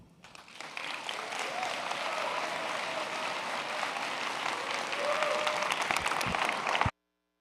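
Sustained audience applause at a general session conference, dense and steady for about seven seconds, building slightly toward the end before cutting off abruptly.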